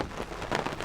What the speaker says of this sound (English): I'm hiding in a fruit picker's tunnel from the rain.